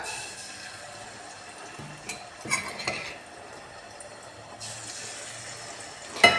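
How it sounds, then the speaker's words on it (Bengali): Rohu fish pieces frying in hot oil, a soft, fairly quiet sizzle with a few stirring scrapes and clinks partway through and a sharper knock at the end, with no voices. "আমি মাছটা ভাইজা ফেলি মাছটা ভাজা হইলে আর ঝামেলা নাই তেলটা গরম হয়ে গেছে এখানে আমি পাঁচ পিস মাছ নিছি"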